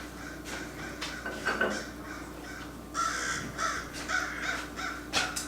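Several crows caw repeatedly in Bermuda, their harsh calls coming in short overlapping bursts at moderate distance over a steady outdoor background, with faint clinks like dishes nearby.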